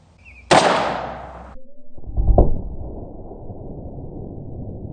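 A pre-Model 27 Smith & Wesson revolver made in 1953 fires a single Winchester .38 Special +P semi-wadcutter hollow point round, one sharp loud report followed by a ringing decay, a second thump and lingering outdoor rumble.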